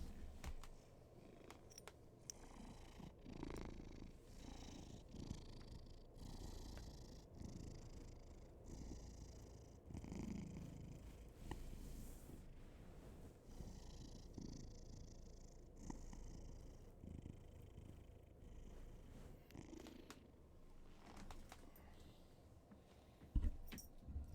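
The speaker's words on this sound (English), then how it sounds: "He's purring." A white cat purrs close to the mic, a soft continuous rumbling that goes on steadily for the whole stretch with small shifts in rhythm.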